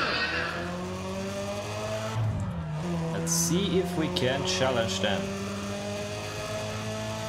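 A Chevrolet's engine drones steadily in the NFS ProStreet racing game, dips briefly, then climbs and holds again while someone talks over it.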